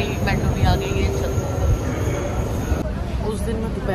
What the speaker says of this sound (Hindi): और हमारी मेट्रो भी आ गई है।